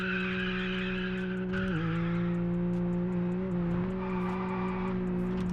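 Stock BMW M4 engine in the racing game Test Drive Unlimited Solar Crown, a steady droning tone with no transmission whine, pitch dipping briefly near the middle and again later, loud and continuous with no talk.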